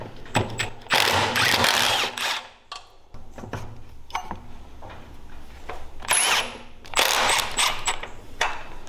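A ratchet or power tool loosening the axle bolt on a Coleman B200R minibike with a 420cc big block engine, in several loud, close bursts of whirring and clicking with short gaps and clanks between them.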